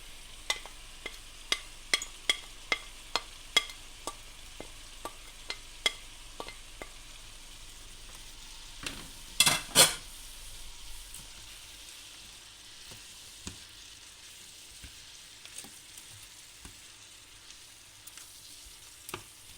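Broccoli, green beans and chopped parsley stir-frying with chicken noodles, a low steady sizzle under a run of regular spatula taps and a burst of louder scraping midway, quieter frying after.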